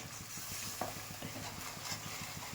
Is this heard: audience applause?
no